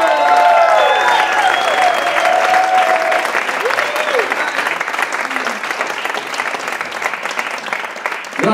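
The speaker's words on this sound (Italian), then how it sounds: "Già che state applaudendo" Audience applause fills a theater at a blues concert, loud and sustained throughout, with voices audible over the clapping.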